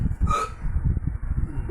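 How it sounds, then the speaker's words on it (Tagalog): A single hiccup, close and fairly loud, during a relaxed family bedtime moment, with low rumbling handling noise and movement continuing underneath. "Yung sinok eh."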